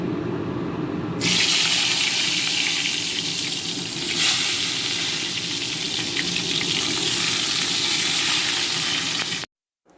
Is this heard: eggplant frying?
yes